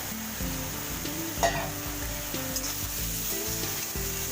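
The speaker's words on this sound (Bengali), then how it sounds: "এবার আমি এর মধ্যে টমেটোটা দিয়ে দিচ্ছি।" Tomato goes into a pan of frying shrimp in oil for a bottle gourd dish, giving a steady sizzle with stirring scrapes and a brief louder clatter, close by, while a faint musical background plays underneath.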